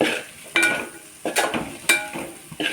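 Spice powders and manthi masala fry in a pan for vegetable masala rice as a spoon stirs them in about four quick, close scraping strokes over a faint sizzle.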